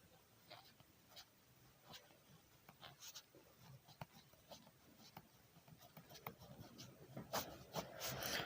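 A pen scratches across paper while a math problem is worked out, giving soft irregular strokes and taps that grow busier toward the end, with someone speaking Hindi faintly in the background.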